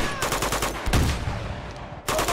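Rapid automatic gunfire from an Uncharted firefight rattles in dense loud bursts, broken by a brief heavier shot and a short lull before another burst resumes.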